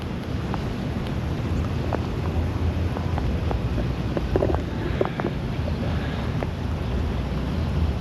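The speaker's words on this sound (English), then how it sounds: "it is just pouring down." Heavy rain pours steadily onto a camper van parked at a casino, a continuous dense wash of noise with scattered sharper drips and taps, close and loud throughout with no talking.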